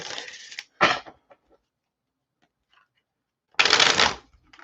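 Two bursts of cards being riffle-shuffled, close and crisp, with a short flutter between them and a long quiet gap before the second shuffle.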